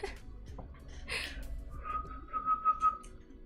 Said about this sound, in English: That was not a good whistle.